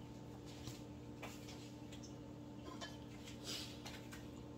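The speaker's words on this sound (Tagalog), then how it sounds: "Maghugas naman tayo ng pinggan." Dishes and cutlery clink faintly against a steady background hum, with scattered light clatters of plates being handled and rinsed.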